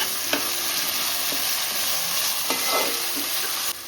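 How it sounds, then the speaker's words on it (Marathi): Ground masala paste fries in hot oil with tomato in a home kitchen pan, a steady loud sizzle close up, broken by occasional scrapes of stirring, with no talking. "आता आपण वाटण टाकू तोही मस्त परतून घेऊ."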